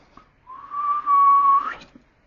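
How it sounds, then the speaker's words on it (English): A single person whistles one sustained, slightly wavering note that rises at the end, alone and close. "I can't even whistle today"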